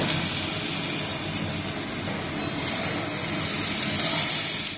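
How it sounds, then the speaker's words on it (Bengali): Sour spinach (tok palong) cooks in a covered pan, giving a loud, steady steamy hiss and sizzle throughout, close by with no talking. "ঢাকনাটা তুলে আবার একটু ভালো করে নাড়িয়ে শাকগুলোকে দিয়ে দিল"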